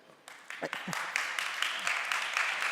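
An audience applauds, many hands clapping in a dense, steady patter that builds quickly and holds, with voices underneath.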